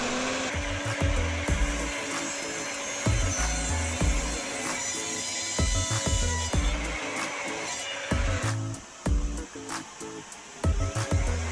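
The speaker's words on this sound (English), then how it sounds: "I'm going to transfer the same angle onto my miter saw and chop off the edges of my seat and my" A miter saw chops angled ends off the wooden seat and backrest pieces of an IKEA chair, with several short whining cuts that each spin up loud and then stop, separated by brief pauses.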